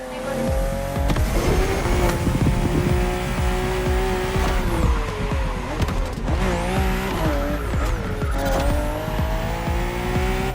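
BMW M2 and M4 race cars tear along a narrow, twisty road in The Crew, with loud engines rising and falling through gear changes and tires squealing on the sharp bends, holding steady for the whole stretch.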